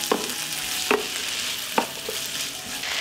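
Vegetables fry in oil in a pan while being stirred, with a steady close sizzle broken by several sharp scraping clicks of the utensil.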